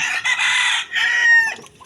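A farm rooster crows loudly and close by, one long cock-a-doodle-doo in two strained bursts that trail off at the end.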